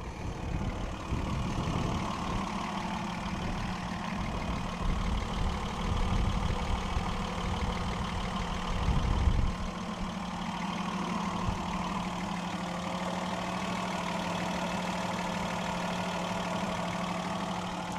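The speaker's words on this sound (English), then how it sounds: "Just a really, really smooth running slant 6 engine." A 1962 Dodge Lancer GT's slant-six engine idles smoothly and steadily, a low, even rumble that holds without change throughout.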